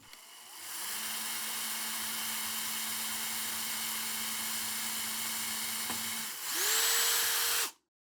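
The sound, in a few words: drilling a hole in a tabletop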